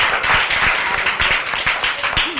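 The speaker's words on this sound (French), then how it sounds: "Oui, on les applaudit." An audience claps for children after a song and recitation segment, a steady continuous patter of many hands filling the whole stretch at moderate loudness.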